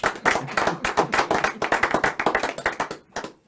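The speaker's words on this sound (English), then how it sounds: "I normally get a round of applause with that" A small group claps in a brief round of applause, quick close-up hand claps lasting a few seconds before fading out.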